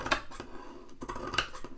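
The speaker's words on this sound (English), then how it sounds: "I wonder if I should cut a bit of excess off all round." Scissors snip close up as they trim excess fabric from around a junk journal cover, two quick sharp cuts.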